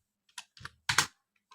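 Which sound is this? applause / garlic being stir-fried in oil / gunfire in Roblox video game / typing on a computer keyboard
typing on a computer keyboard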